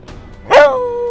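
A small pet dog gives one sharp, close yelp that trails into a brief whining tone, heard alone with a faint earlier squeak.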